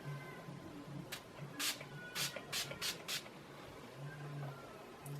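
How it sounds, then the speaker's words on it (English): Several short hissing bursts of makeup setting spray, a quick pair followed by a rapid cluster of four, close to the microphone over a quiet background hum. "point is, it's a setting spray"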